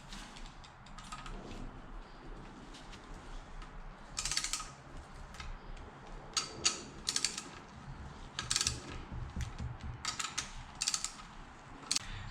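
Torque wrench ratcheting on the clutch cover bolts of a Yamaha YFZ450 quad, close metallic clicking in short bursts separated by pauses, with workshop handling noise and no talking.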